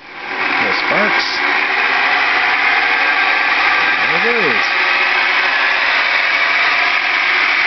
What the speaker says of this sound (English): So I'm going to go ahead and spin up the motor, and just make sure that everything is working good here